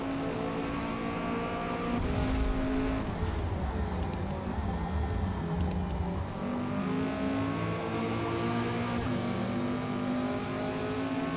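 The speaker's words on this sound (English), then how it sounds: "RX-7 with the wide body." A wide-body Mazda RX-7 race car passes on a circuit, its engine swelling loud and near before fading away, with steady engine drone continuing underneath.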